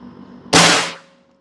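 A single sharp shot from an ACW Nikka Hybrida airsoft gun hitting a target's head, a loud close crack with a brief decaying ring, alone in an otherwise quiet room.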